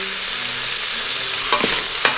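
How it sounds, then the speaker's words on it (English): Pork belly pieces browning in a pot for Taiwanese braised pork, a steady hiss of frying throughout with two brief stir clatters near the end. "I'm going to put in my pork pieces. I'm just going to put it all in, and we just want to brown this up a little bit."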